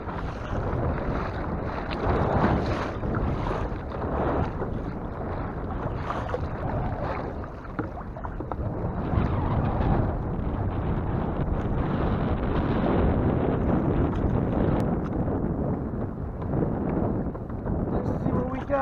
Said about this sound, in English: After lunch, the wind picked up again, so I left my son at the shore and went out to retrieve the traps.